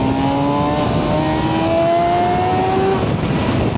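A 200 hp MV Agusta motorcycle revs hard through its gears, its engine note climbing in loud rising sweeps close by, with a brief dip at a gear change before it pulls again.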